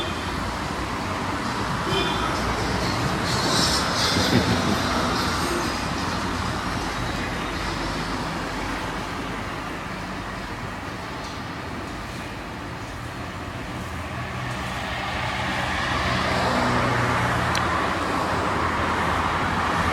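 Steady road traffic in Greece, with a Citroen car among the vehicles, swelling as it passes nearby, loud and continuous with no voices.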